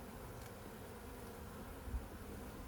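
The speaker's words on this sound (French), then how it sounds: "T'as une abeille sur toi." A honeybee hums steadily at a beehive during hive work, a faint, continuous buzz close by, with no talk over it.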